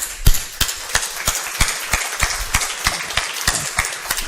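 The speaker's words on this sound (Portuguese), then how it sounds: "Vamos dar uma salva de palmas para o Senhor?" A church congregation breaks into steady applause, a dense crowd of clapping hands with sharp, regular claps standing out, filling the room throughout without any voices over it.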